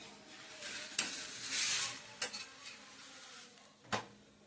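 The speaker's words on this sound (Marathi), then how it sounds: "आपल्याला भाजून घेऊया खरपूस चांगल्या मस्तपैकी. तेल टाकून साईडने तेल टाकायचं आपल्याला" Jaggery-stuffed flatbread roasting on a hot griddle with oil added at the sides gives a steady soft sizzle, broken by a few sharp scraping clicks of a spatula against the pan.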